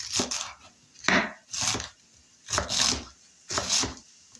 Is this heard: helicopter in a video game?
no